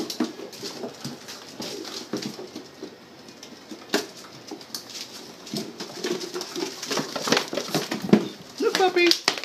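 Soft, high whimpers from a puppy mixed with close voices, shuffling and background noise, a few squeaky cries toward the end.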